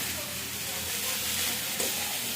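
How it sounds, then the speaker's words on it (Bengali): Saag greens frying in a pan with very little oil, a steady close sizzle and hiss with faint stirring scrapes throughout. "অল্প একটু সময় ভেজে নেব"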